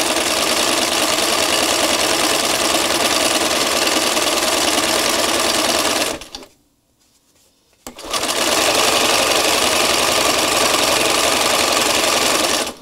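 A sewing machine stitches fabric for a flower craft in a steady, loud, continuous whir, halting for about two seconds midway before running again at the same pace, with no voices.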